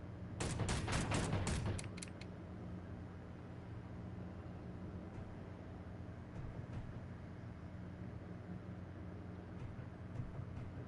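A small pistol in the video game Space Engineers fires a quick burst of sharp shots in the first couple of seconds, followed by a steady low mechanical hum.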